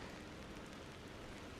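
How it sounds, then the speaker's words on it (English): Rain falling in the Nagano mountains, a steady, dense hiss of drops heard faintly from inside a parked car, even and unbroken, with no talk. "It's not a nice day, it's raining."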